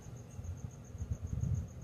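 A cricket chirping indoors at night, a thin, steady pulsing trill repeating evenly, faint above a low rumbling background.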